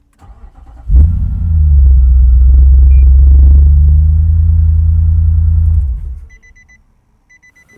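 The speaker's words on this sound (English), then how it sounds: "I might just start the car quickly." A Nissan Y62 Patrol touring rig fires up with a sharp starter catch, then settles into a loud, steady low idle rumble for about five seconds before cutting off, followed by faint beeping.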